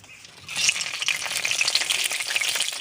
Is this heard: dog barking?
no